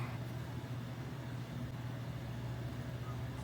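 A steady, loud whirring hum with a low droning tone, constant throughout like a fan running nearby, no talking.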